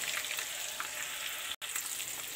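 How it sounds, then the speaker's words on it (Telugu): Eggs sizzling in an oil-filled pan while frying for an egg tomato curry, a steady close crackling hiss with a brief break, no talking. "ఇదిని ఇలా తిప్పుకుంటా ఉంటే చక్కగా వేగుతాయి మనకు"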